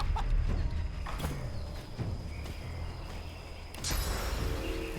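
In the video game Divinity: Original Sin 2, a chicken clucks in short squawks over busy game background noise and clattering effects, moderately loud, with a sharper burst near the end.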